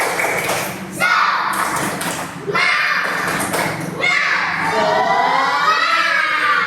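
Second-grade schoolchildren repeat a group spirit clap, clapping in loud, patterned bursts with short breaks while their voices chant and shout together in the classroom.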